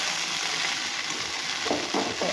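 Leftover rice fries in a pan with potato, chilli and onion, giving a continuous loud sizzle and a few stirring scrapes toward the end, with no voices.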